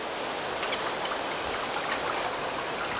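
A shallow river with a sandy bed flows steadily in the Finnish wilderness, an even, close rushing and trickling of water with no voices.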